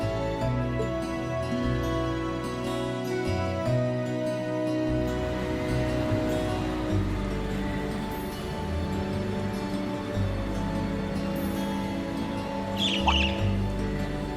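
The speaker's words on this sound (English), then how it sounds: "I just got distracted by a strange bird on that lamppost" Birds call in the Trails of Cold Steel video game over a dense layer of sustained music and ambience, with a brief sharp squawk late in the scene.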